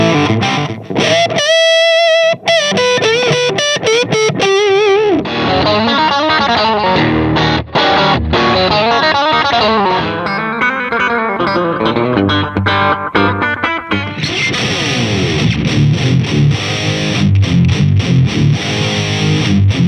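Electric guitar played through an effects unit with heavy distortion, a loud, continuous run of chords and lead lines with shifting tones, chorus-like shimmer and sustained notes, no talking.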